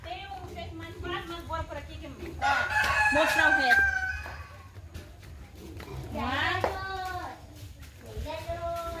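Chickens and a rooster in a farm henhouse, with several clucks followed by two long, drawn-out crows at mid-distance, while people talk quietly in the background.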